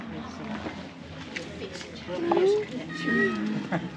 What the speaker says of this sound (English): These are the funniest strays I've ever seen. They're so noisy and meowy